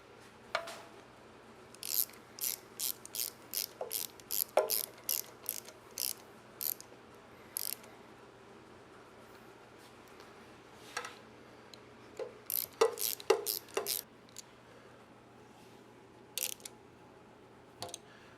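A hand ratchet snugs up oil pan bolts on a small block V8 engine, heard as close, quick bursts of sharp clicking strokes that come in irregular runs with short pauses between.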